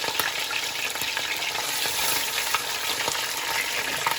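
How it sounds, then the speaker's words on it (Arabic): Meat for kabsa sears in a hot pan, giving a loud, dense sizzle with sharp pops and crackles throughout and no talking over it. "هنحمر اللحمه على الجنبين، نحمرها حلو."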